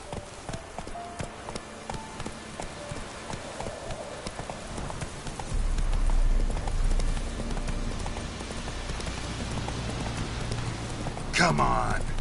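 Hooves of a ridden horse clip-clop in a steady, brisk rhythm at close range, picking up in pace partway through, while a rider talks over the footfalls.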